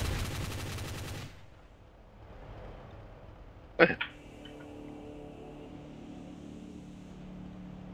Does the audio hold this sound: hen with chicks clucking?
no